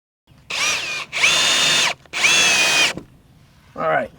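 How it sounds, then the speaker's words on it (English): A Ryobi ONE+ 18V cordless drill drives into wooden fence boards in three loud, whining bursts of about half a second to a second each, followed by a shorter burst after a pause. "the Ryobi 18 volt One Plus cordless drill definitely is up for the task"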